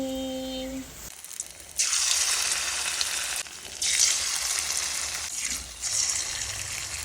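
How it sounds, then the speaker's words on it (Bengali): Bora fritters fry in hot oil, a close, loud sizzle that surges each time more batter goes in, after a brief tonal sound at the very start. "আমি এখন বড়া ভাজছি বড়াটা ভেজে নিই"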